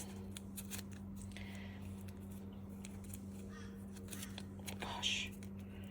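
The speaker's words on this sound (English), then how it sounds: "So rip all the backs off the tape." Sticky backing strips being peeled off tape while making a journal page: a few faint, quick tearing rasps near and far apart over a steady low electrical hum.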